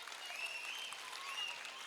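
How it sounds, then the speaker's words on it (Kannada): Audience at a school annual day celebration applauding a teacher, a steady wash of many hands clapping together, moderately distant and even throughout with no voices on top. "ಈಗ ಹೊಡಿರಿ ಮೇಷ್ಟ್ರಿಗೊಂದು ಚಪ್ಪಾಳೆ."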